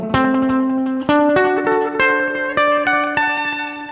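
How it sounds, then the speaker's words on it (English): A guitar picks a dominant 7 arpeggio for rock and roll, half a dozen clear notes climbing one after another and ringing over each other, close and unaccompanied, with no voices. "So there's the dominant 7 arpeggio"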